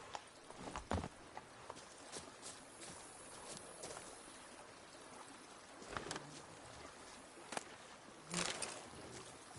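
Roach the horse's hooves clip-clop softly at a run in The Witcher 3, mixed with faint outdoor ambience and a few louder thuds.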